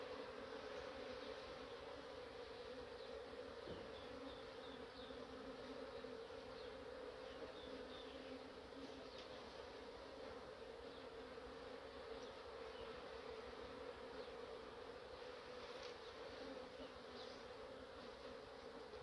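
Honeybees buzz steadily around a hive box holding old comb, a dense continuous drone of many wings close by with no talking.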